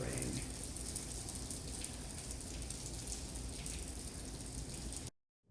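Rain falls steadily in a dense, close hiss with a soft pattering texture, continuous and even before cutting off abruptly near the end.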